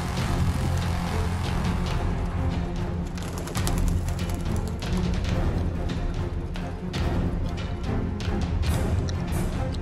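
Homing pigeons let out of their loft for a first free flight coo and flutter close by in a busy, continuous mix of wing flaps and calls lasting the whole stretch.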